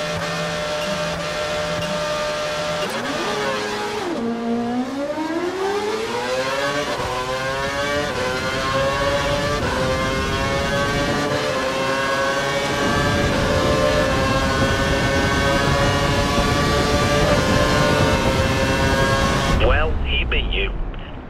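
F1 race car engine in the video game F1 2012, a loud high-pitched whine climbing steadily through the revs after a brief dip, sustained and close with a voice talking over it.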